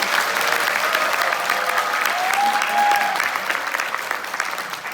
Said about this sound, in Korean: 다시 한번 이준석 당대표님께 큰 박수 부탁드리겠습니다